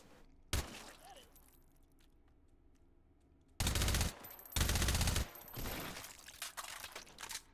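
Virtual gunfire from the VR shooter game H3VR: a single sharp shot, then loud sustained automatic bursts in quick succession with short gaps, close and dominant.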